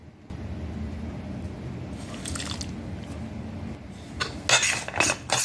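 Melted butter being mixed into graham cracker crumbs in a pan for a no-bake cheesecake crust, soft close squishing and scraping with a few sharper clinks of a utensil against the pan near the end.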